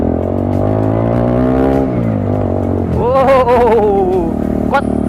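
A modified Bajaj Dominar 250 motorcycle exhaust drones steadily up close at idle, then revs sharply upward with rising, wavering pitch before easing off near the end.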